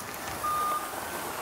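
A green dump truck's reversing alarm gives a single steady high beep of under half a second over faint outdoor background noise.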